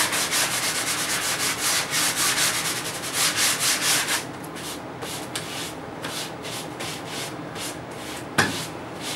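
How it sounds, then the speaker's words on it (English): Rhythmic strokes of a sanding pad scrubbing a hard epoxy-coated counter surface, brisk at first, then lighter and steadier, ending with a soft knock. "On a counter you just use a sanding pad."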